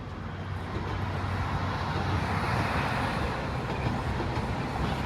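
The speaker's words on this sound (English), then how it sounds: "Oh, there's the southbound train." A southbound Toronto subway train rumbles past near Cedarvale station, a steady broadband roar of wheels and motors that holds loud and even throughout with no talk.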